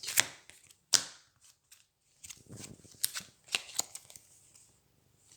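Five cards drawn from a deck in the board game Aeon's End: a run of crisp paper snaps and slides, some close together and some spaced apart, with quiet pauses in between.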